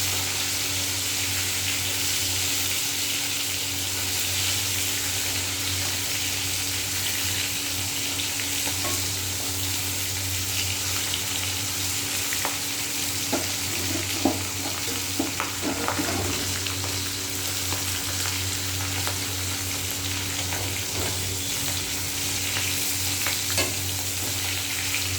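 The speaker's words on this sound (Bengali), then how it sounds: "মাছের মাথাটা ভাজা হতে থাকে।" A fish head frying in oil in a pan, with a constant loud sizzle and crackle plus occasional spatula scrapes and stirring clicks over a steady hum, close up and unbroken, no voices.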